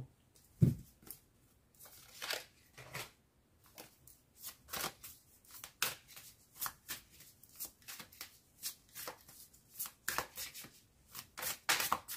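Tarot cards being shuffled for a reading, a soft, close, repeated riffling and sliding in irregular quick bursts, fairly quiet, with no talking.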